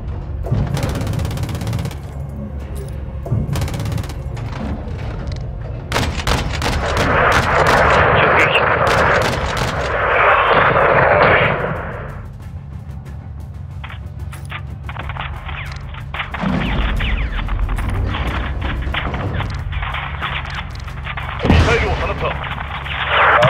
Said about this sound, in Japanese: 発砲する。